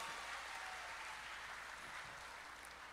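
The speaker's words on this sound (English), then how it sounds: "Let's give him a round of applause." An audience at a church community crusade program applauds in a steady, dense wash of clapping that holds for the full stretch with no talking.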